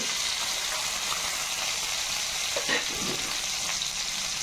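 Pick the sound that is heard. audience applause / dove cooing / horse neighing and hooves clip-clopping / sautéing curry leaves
sautéing curry leaves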